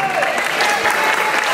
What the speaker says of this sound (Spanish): Un aplauso fuerte.